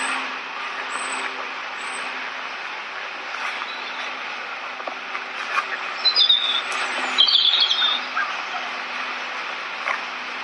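Birds chirp briefly in the distance over a steady outdoor rumble of passing traffic, with a short burst of twittering midway.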